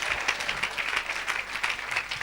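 A congregation applauds Jesus Christ in a continuous burst during an evangelist's service, a busy wash of clapping with sharper individual claps poking through, no talking over it.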